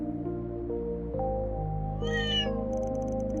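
A single clear cat meow rings out in the video game Trails through Daybreak II over steady background music, followed by faint higher chime-like notes, with no talking.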